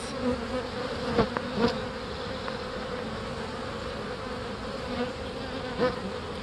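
Bees buzz continuously around a huge beehive during an inspection, a dense steady drone with individual bees zipping close past the microphone now and then, louder for a moment as each one passes.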